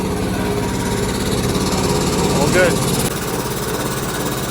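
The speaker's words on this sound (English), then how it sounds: "I just tested the compressor." A workshop air compressor, new and breaking in on a 60 amp circuit, runs with a steady mechanical drone throughout, close and continuous, while a voice briefly speaks over it.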